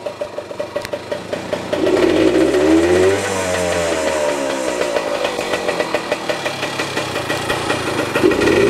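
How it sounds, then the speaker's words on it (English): A Yamaha MX 100 motorcycle engine runs right after starting, revving up loudly then settling into a steady, close, slightly uneven idle without talk. "Fired right up."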